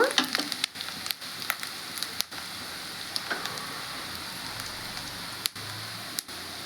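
Green chilli pieces fry in a pan for an egg and amaranth stir-fry, giving a steady close sizzle with crackling pops throughout.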